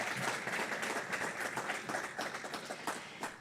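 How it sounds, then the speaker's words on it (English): Students of a new master's intake clap at a university opening ceremony, a lively spread of individual claps forming continuous applause that slowly tapers toward the end. "Give yourselves a round of applause,"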